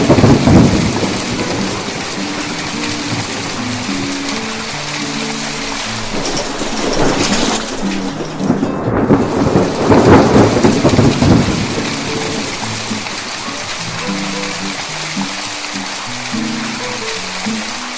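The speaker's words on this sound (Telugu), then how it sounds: "ఒకానొక రోజు భీకరమైన తుఫాను వచ్చింది" A thunderstorm pours heavy rain in a steady, dense hiss, while deep rolling thunder swells loudly near the middle and then fades back under the downpour.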